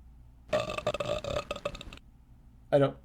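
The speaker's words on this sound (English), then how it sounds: "you missed Lily burping when she eats Manectric" Lily, a cartoon character, gives a long, loud burp after eating Manectric, followed by a short pause and a second sharp burp.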